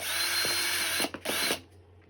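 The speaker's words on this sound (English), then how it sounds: "we're gonna drill on this mark." A power drill whirs steadily at high speed, briefly cutting out and revving again twice before stopping, leaving near silence.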